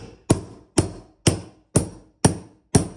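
A hammer tacker driving staples into a stair runner carpet in an old house, six sharp evenly spaced strikes about half a second apart, loud and close with nothing else heard.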